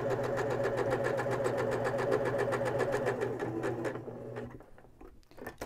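A sewing machine stitches fabric with black thread in a fast, even mechanical patter, close and steady. It slows and stops near the end, leaving only faint handling noises.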